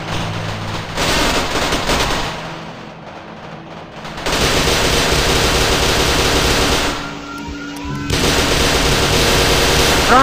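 Gunfire aimed at an SCP creature and zombies in an SCP video game, long sustained bursts of loud, dense automatic fire broken by two brief lulls.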